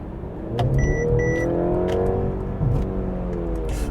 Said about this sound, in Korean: 이렇게 급가속을 하게 되면 살짝 그런 건 있네요 약간 4기통 이상의 사운드를 내긴 하는데